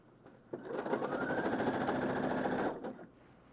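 Sewing machine running a steady burst of stitches, set to a stitch length of about 3, while repairing a pair of US Special Forces prototype pants; a quiet, even whir lasting a couple of seconds.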